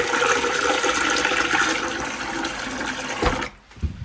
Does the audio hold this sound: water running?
yes